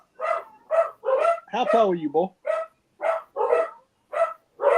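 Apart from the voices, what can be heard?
dogs barking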